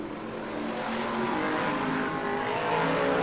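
BriSCA Formula 1 stock cars racing at Skegness, a steady roar of several engines under power at a distance, swelling slightly in volume as the pack passes.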